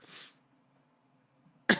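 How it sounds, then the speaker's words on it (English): Two short, sharp throat bursts, one at the start and one at the end, close to the microphone with near-silence between them. "these little coughs are killing me"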